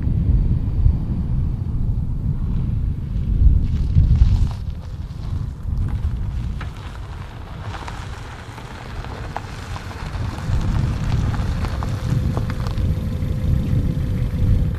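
A 2012 Ford Focus ST MK3 driving, with a steady low engine and road rumble heard from inside the car, loud and continuous.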